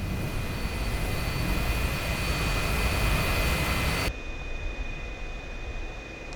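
A Pakistan Air Force F-86F Sabre jet runs off the runway after a landing gear failure. Its loud, steady engine roar holds, then drops abruptly to a lower rushing hum.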